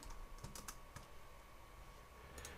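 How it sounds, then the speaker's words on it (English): Quiet, rapid keystrokes on a computer keyboard tap out in irregular bursts as router commands are entered, with no voices over a faint steady hum. "we're going to start by typing in the network command"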